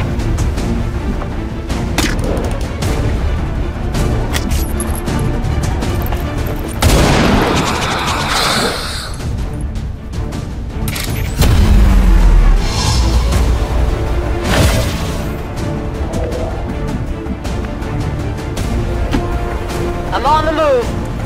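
Gunfire crackles through an XCOM 2 firefight in bursts, with loud booming volleys and sustained shooting against steady battle noise, while game voices shout over it.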